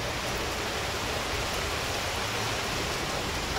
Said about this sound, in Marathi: एकदमच मोठा पाऊस आला.